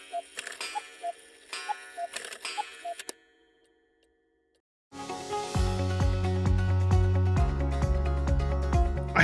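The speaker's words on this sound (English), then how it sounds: "you'll have a digital cuckoo clock that sounds like this" A digital cuckoo clock chime played from a smart speaker: a few seconds of rhythmic ticking with short repeated tones, a brief pause, then a loud, sustained musical chime that continues to the end.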